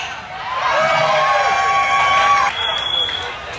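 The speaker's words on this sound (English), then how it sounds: "I want to hear everybody cheering for every single one of these ladies" Crowd cheering and whooping at a bikini contest during Daytona Bike Week, a loud, sustained wash of voices with shouts and some clapping that dips briefly, then carries on.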